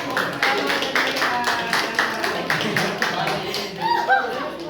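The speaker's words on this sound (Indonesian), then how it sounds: "Tepuk tangan buat kelompok" Classroom applause for a group of students, a patter of claps mixed with chatter and a little laughter from the room.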